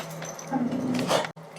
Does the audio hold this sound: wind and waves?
no